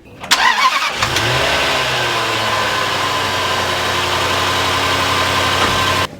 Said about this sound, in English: what you can do is turn the car on